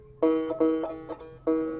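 A low banjo fourth string, tuned to low G, plucked four or five times at a moderate pace, each note sustaining briefly with a warm twang.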